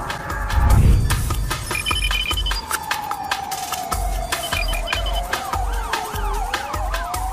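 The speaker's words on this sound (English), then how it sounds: "If you've been hearing police sirens in your neighborhood" A loud police siren wails and sweeps up and down in pitch without a break, with a deep rumble swelling early on and faint chirping tones layered over it.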